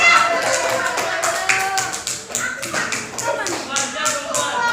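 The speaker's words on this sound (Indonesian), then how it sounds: "tepuk tangan buat Mas Habib" Classroom clapping for a student, a brief burst of scattered hand claps from a group with voices murmuring underneath.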